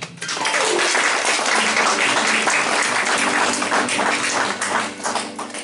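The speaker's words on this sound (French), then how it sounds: "Applaudissez Jésus." Congregation at a church service bursts into sustained, loud applause, dense clapping filling the room steadily for several seconds with a brief dip near the end.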